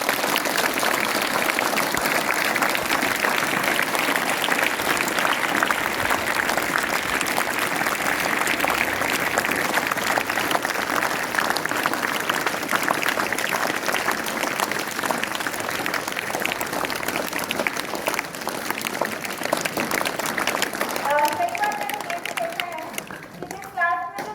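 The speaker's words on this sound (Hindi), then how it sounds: "तो इन सब के लिए एक बार जोरदार तालियां बजाइए." An audience at a teachers' farewell event breaks into sustained applause, dense clapping from many hands that holds for about twenty seconds before thinning out, with voices mixed in.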